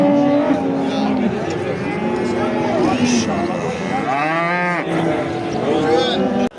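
Cattle moo at a livestock market in Afyon, Turkey. Several loud, drawn-out moos rise over a constant background of people talking and crowd bustle.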